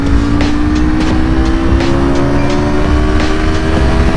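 A sportbike engine drones loudly and steadily for several seconds, with a slowly rising pitch as the rider rolls along at an easy pace. No voices are heard.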